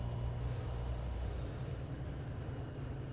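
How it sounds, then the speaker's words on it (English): A heavy truck engine in American Truck Simulator rumbles with a deep, steady, loud drone and constant low harmonics, running on alone without talk. "Love the engine sounds on this truck, though."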